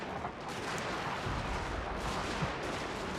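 Dense battlefield gunfire from musket units in Total War: Shogun 2: Fall of the Samurai, a continuous rolling crackle of overlapping shots and distant booms, steady and fairly loud with no talking.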